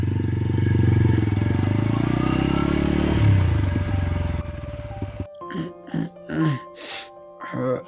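A motorcycle engine runs loud and close, rising in a rev, then cuts off abruptly as people start talking in the quiet that follows.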